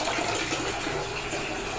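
Water gushes steadily out of a household tank being drained, a loud, continuous rushing flow with no break and no voices over it.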